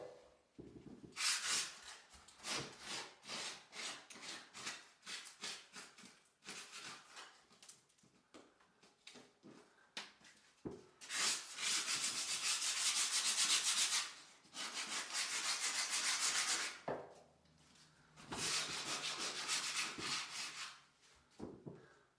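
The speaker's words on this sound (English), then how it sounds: "So I'm just using a bit of worn down 80 grade sandpaper and we're just cleaning it up." Worn 80 grade sandpaper rubbed by hand over dried wall filler on a wall, in bursts of quick scratchy back-and-forth strokes with short pauses, close and fairly quiet.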